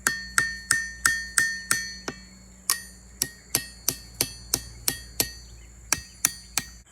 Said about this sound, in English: I'll beat the pins down so that way they're even on both sides. Then I'll peen it over